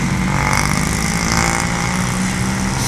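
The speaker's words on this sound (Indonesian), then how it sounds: "Nah, ini ada bus Sinar Tapanuli." A Sinar Tapanuli medium bus on the Jambi–Pekanbaru route passes close by, its loud engine roar and rushing road noise swelling and holding steady amid surrounding traffic.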